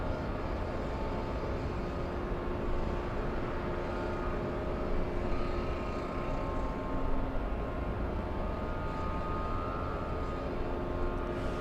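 A Delta jet at Los Angeles International Airport, bound for JFK, gives off a steady, distant roar that holds at an even level throughout with no voices.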